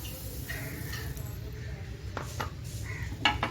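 Water, sugar and cardamom pods stirred in a pan, with soft spoon scrapes and light clinks against the metal, a faint low hum beneath.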